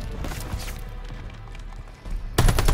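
Scattered gunfire and bullets whizzing past during a battle in the Call of Duty Vanguard campaign, a dense rattle of shots with a louder burst near the end.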